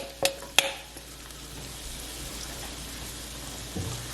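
Onion sautéing in a pan with leftover oil and pork chop drippings over medium to medium-high heat, a soft steady sizzle after two sharp clinks near the start, no voices.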